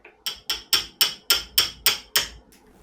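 A motorcycle brake caliper piston on a Katana is tapped out with about eight crisp, ringing metallic strikes at a steady pace, close and loud, ending with a fainter final tap.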